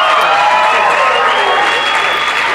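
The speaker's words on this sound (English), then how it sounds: "can I get a round of applause with your feet, please?" Banquet audience at an awards dinner applauding steadily, a dense sustained wash of hand claps filling the room without pause.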